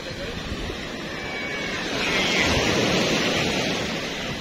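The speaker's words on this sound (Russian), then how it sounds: "Волна, естественно, здесь намного меньше, чем в Коктебеле." Small sea waves wash onto a sandy shore with fine pebbles on the Crimean coast, a steady close hiss of surf that swells slightly midway, with some wind on the microphone.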